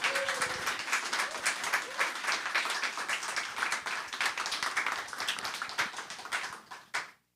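Applause for storytellers at a talk on LGBTQ+ activism in Chicago, a full room clapping in a dense continuous patter that tapers off and stops near the end.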